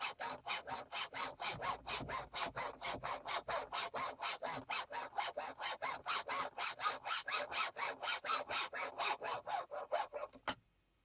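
Hand saw cutting wood for a loom build, a fast, even run of about thirty rasping back-and-forth strokes close by, each stroke a bright scratchy burst, ending abruptly as the cut finishes.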